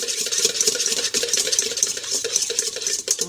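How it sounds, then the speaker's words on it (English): Melted butter being whisked a little at a time into hollandaise sauce, with a steady, continuous scraping and stirring rhythm over faint kitchen background noise. "I'm going to gradually add in my 1 cup of melted butter, but I'm only going to add a little bit at a time, slowly stirring it in"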